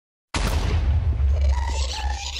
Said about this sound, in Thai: มันระเบิดน้ำแข็งผม